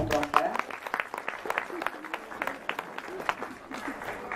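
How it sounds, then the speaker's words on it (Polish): An audience claps in thanks for a dance group's instructor at a community centre's winter-holiday program, with short scattered bursts of applause under and between spoken announcements. "brawa wielkie"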